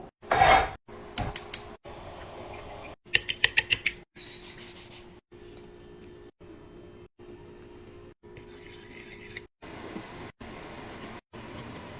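A knife works through frozen, flattened chicken, cutting it into sticks for jerk chicken fries, giving repeated close gritty scraping and crunching strokes in short bursts separated by brief silences, with no talking.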